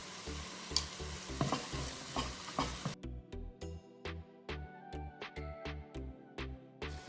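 Onions with tomato and ginger garlic paste sautéing for chicken curry, with steady rhythmic spoon strokes scraping the pan over a constant sizzle, the knocks turning sharper and more distinct halfway through.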